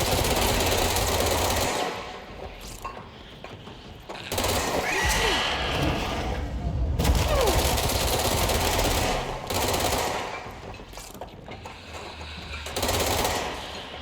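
Gunfire in the action game Control, a dense, sustained burst of loud shots running through most of the stretch with brief lulls, heavy and close.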